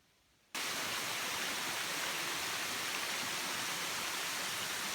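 Mountaineer Falls pours as a steady, loud broadband roar after a brief quieter opening, close by and continuous, with no voices.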